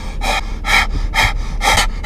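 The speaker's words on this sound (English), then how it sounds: "Now we're gonna breathe on this." Someone breathes out onto an air quality tracker in five steady, close, loud exhalations, each a soft airy rush, evenly spaced.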